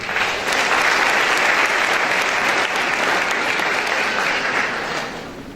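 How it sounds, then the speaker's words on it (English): A full audience at a school scholarship and awards night applauds in a dense, steady roar of clapping that swells quickly, holds evenly, then begins to taper off near the end. "Round of applause, please."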